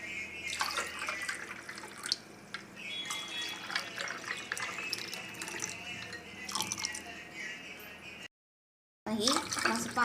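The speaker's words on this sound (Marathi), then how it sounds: "ही असं पाणी मस्त भरून घेतलं" Water runs into a glass already holding two ice cubes for a summer mocktail, a steady close splashing pour with a brief gap near the end before it resumes.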